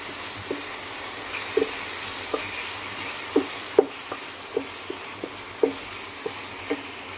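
Chicken pieces go into a pan of sautéed onions, giving a low continuous sizzle with a series of soft, regular taps and scrapes from stirring and adding pieces, close and fairly quiet.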